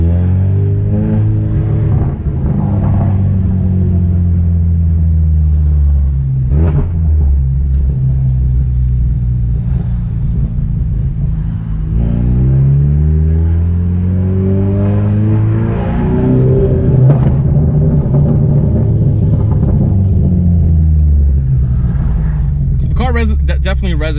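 A Ford Mustang EcoBoost with a burble tune drives on the street, its engine giving a loud, continuous low rumble that rises and falls through revs and gear changes, with a speaking voice over it for most of the run.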